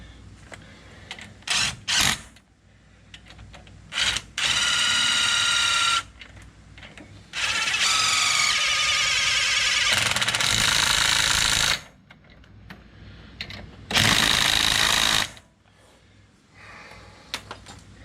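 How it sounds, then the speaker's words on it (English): Impact drill running bolts on the brakes of a 2017 Chevrolet Tahoe, several bursts of loud close whirring and hammering, some long and some short, separated by quiet handling noises. "I got an impact drill that I use"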